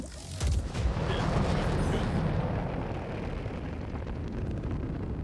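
Missile launches and an explosion in the space game Star Citizen, a sharp blast at the start followed by a long, roaring rumble that slowly settles, with a single brief spoken word over it.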